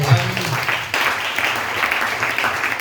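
Church congregation clapping in praise during a worship service, a dense, steady wash of applause with some voices mixed in throughout.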